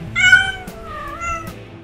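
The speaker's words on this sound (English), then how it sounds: "unneutered male cats have their own unique mating call, known as caterwauling" An unneutered male cat caterwauls its mating call, a loud, close, drawn-out wavering yowl with a couple of short breaks.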